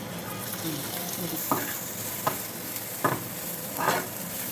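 Fennel seeds and small shallots frying in hot oil for a traditional Kerala fish curry, a steady close sizzle broken by several sharp bursts as ingredients are stirred or added.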